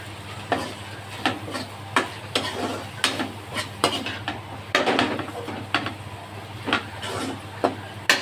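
Elephant yam pieces sautéing in a pan with a little water, a spatula scraping and stirring in frequent irregular strokes over a steady low sizzle, close and fairly loud with no talking.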